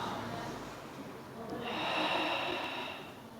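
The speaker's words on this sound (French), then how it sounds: "Inspire et expire." Breathing in and out during a Pilates exercise, a slow audible inhale followed by a longer, breathy exhale, close and fairly faint.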